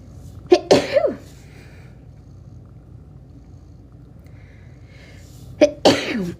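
A woman sneezes twice, several seconds apart, each sharp burst close and loud against a quiet indoor background with a soft low hum.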